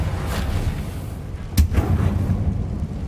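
A sharp magical burst from the Reparo repair spell in the video game Hogwarts Legacy cracks once near the middle, loud and close, over a steady low rumbling game ambience with no talking.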